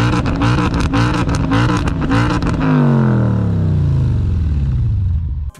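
Audi S5 with a modified exhaust, loud and close, revving hard in quick repeated throttle stabs, then one long rev that falls away smoothly before cutting off abruptly.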